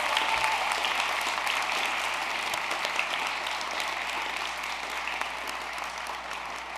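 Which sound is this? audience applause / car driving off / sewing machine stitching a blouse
audience applause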